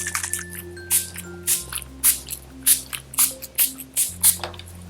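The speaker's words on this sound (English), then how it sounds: "I'm going to mist my face with the NYX Dewy Finish" A NYX Dewy Finish Long Lasting setting spray mists onto a face in a series of about eight short, crisp pump bursts, evenly spaced and close, with soft background music underneath.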